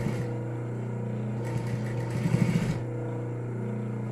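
A sewing machine backstitches over an existing seam on a fabric toiletry pouch, giving a steady whirring mechanical drone with a brief, brighter burst of rapid stitching in the middle.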